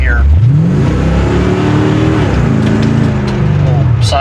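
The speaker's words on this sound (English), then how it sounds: "I do have the engine drone, which is pretty typical for any C4 with aftermarket exhaust" A C4 Corvette fitted with aftermarket exhaust drones loudly and steadily from the cabin while driving, a low engine hum with a slowly rising and falling pitch that fills the whole stretch.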